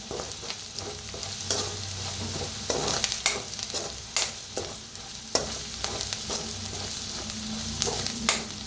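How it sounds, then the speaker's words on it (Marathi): Half a spoon of turmeric being stirred and roasted in a pan of masala for buttermilk pitla, with a steady close frying sizzle broken by repeated sharp scrapes of a spoon against the pan. "मिक्स करून भाजूया हळदीला बी"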